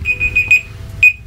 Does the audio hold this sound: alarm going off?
yes